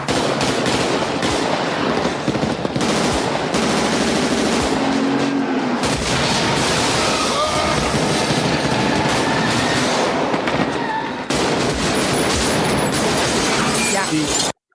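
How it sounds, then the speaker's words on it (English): Loud, dense action audio from the film Heat: bursts of gunfire and a car crash's impacts over a continuous rumbling roar, with clattering debris throughout. "let's listen to again this gunfire and car crash because it's kind of cool"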